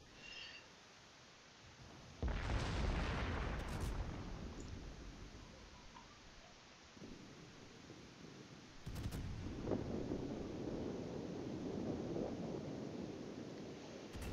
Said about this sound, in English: I was determined to keep on firing.